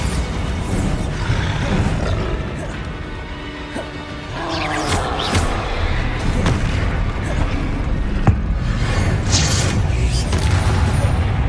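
Spell blasts from the Bombarda blasting charm in Hogwarts Legacy, a busy run of booms, crashes and bursts with a sharp hit near the middle, layered over steady game ambience and effects.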